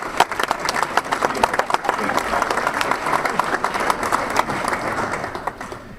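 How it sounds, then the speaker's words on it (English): An audience at a corporate sales meeting breaks into sustained applause, dense clapping holding steady throughout at fairly close range, with a few indistinct voices mixed into the crowd noise. "Big round of applause"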